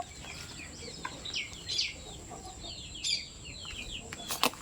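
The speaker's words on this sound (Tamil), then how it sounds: "இதுதாங்க இந்த சேவல்" A country rooster and hens on a farm give a scatter of soft clucks and short calls, fairly faint and irregular, with one sharper burst near the end.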